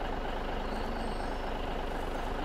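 A Mack truck drives in Farming Simulator 17, a steady, loud engine drone with dense broadband noise that holds unchanged for the whole stretch and carries no voices over it.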